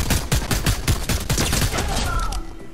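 Rapid SMG bursts in the Fortnite battle royale game crackle close and loud as a dense string of sharp shots over about two seconds, then trail off into quieter game sounds.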